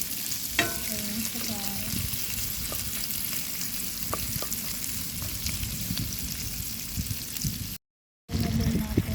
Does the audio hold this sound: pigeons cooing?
no